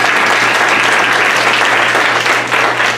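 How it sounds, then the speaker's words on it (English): A church congregation applauds during a Sunday service, a loud, dense, steady round of clapping that fills the whole stretch with a low hum running underneath. "So let's give them a big round of applause."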